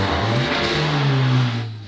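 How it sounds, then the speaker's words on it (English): Mercedes GLA45 AMG engine running after service, a loud, deep rumbling drone with a rising rev that swells and then eases back, heard up close with no talk. "Now I'll start the car. I'm still amazed every time by how good this thing sounds."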